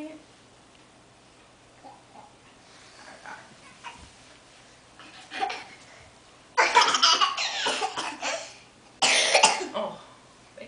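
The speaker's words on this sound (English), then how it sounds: "Yeah, that was a big cough." Two loud, harsh coughs burst out close by, each lasting about a second, after a quiet stretch of soft giggling and small child sounds.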